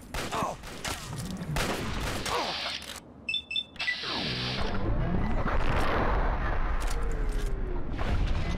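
Gunfire in Fallout 3 rings out in a burst of sharp shots and impacts, followed by denser rattling fire and crashes within layered game sound.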